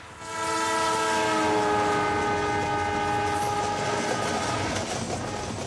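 An Indian Railways train passes close and loud, its horn sounding in sustained harmonic blasts over the steady rumble and clatter of the wagons, with no voices.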